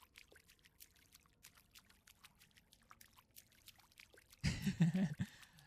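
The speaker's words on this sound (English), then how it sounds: "I think it's supposed to mimic shallow water. Like, this isn't very deep. And so it makes very dainty sounds." Shallow water in a video game poolroom trickles with faint, dainty drips at first, then pours more loudly near the end.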